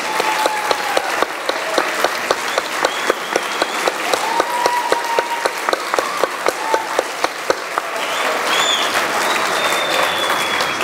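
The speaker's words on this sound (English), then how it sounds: "Go ahead and stand up, would you, so we could give you a round of applause." A school commencement audience applauds the students' parents with sustained, dense clapping from many hands, loud and steady throughout, then gradually thinning near the end.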